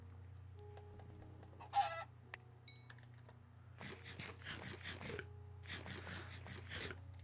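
A chicken in the video game Minecraft gives a short high squawk, then two bursts of rapid clucking, over a quiet steady game hum.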